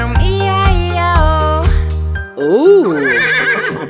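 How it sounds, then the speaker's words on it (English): A horse whinnies with a wavering, rising-and-falling neigh after a run of sung notes in a children's farm nursery song, with music continuing around it. "And on the farm he had a horse, E-I-E-I-O."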